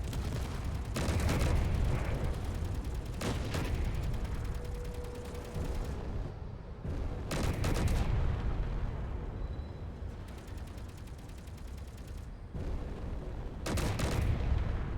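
Turret weapons firing in Space Engineers, loud sustained bursts of rapid gunfire and blasts that come in several waves separated by short lulls, with no voices.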